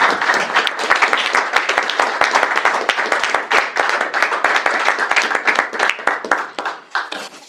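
An audience at an RASC Halifax meeting claps steadily for several seconds, individual hand claps audible within the broad wash, fading slightly toward the end.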